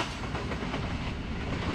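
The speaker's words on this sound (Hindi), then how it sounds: "अभी आपने देखी 102 डाउन सुबह रफ्तार रेल कार GU20 4561 के साथ हरीपुर बांध रेलवे स्टेशन से पास थ्रू हुई है।" Raftar railcar GU20 4561, running as the 102 Down, passes through Haripur Band railway station with a steady, loud rumble and rolling wheel noise that holds for the whole short stretch, with no voices.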